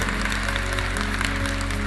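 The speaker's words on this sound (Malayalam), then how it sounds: "നല്ലൊരു കയ്യടി." A crowd claps steadily and densely at a golden anniversary celebration in Qatar, continuous loud applause filling the whole moment without pause or voices.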